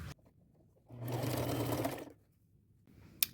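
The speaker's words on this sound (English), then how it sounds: "And I'm using a zigzag stitch, my largest zigzag" Sewing machine running a wide zigzag stitch on a dyed jean skirt and blouse outfit, a steady mechanical whir lasting about a second between quiet pauses, close and clear.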